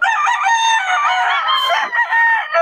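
Several roosters at a market crow loudly and continuously, their overlapping calls filling the air with no pauses.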